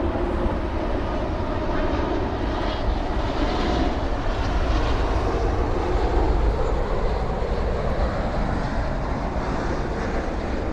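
A jet airliner on landing approach to Frankfurt Airport, coming in from the east over the A5 motorway toward the runway, gives a steady, loud engine roar that holds through the whole stretch without a break.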